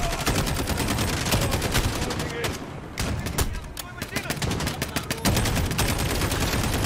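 Sustained automatic gunfire from a weapon in Call of Duty Modern Warfare, rapid loud shots in bursts with a brief lull midway, over a busy game mix.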